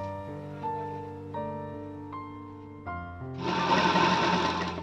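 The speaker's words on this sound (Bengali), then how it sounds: "দেখুন সেলাই করছি" Sewing machine stitching a princess cut blouse, a steady motor hum with a stitching whir that becomes louder and denser over the final second and a half, with no talking.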